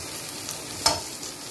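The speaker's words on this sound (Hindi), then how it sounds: "अभी मैं ये कर रहा हूँ सारी मिक्स वेज को फ्राई।" Mixed vegetables fry in a pan on a home stove with a soft, even sizzle, and a single short scrape or clack of stirring rises partway through.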